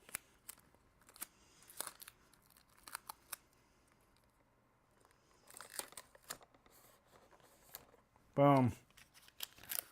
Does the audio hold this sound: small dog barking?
no